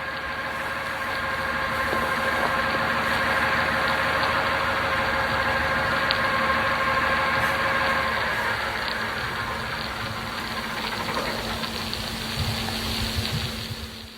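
A trials vessel's boat engines idle out at sea in the Gulf, heard from about half a kilometre away: a continuous droning hum with steady tonal whine, constant level, no voices.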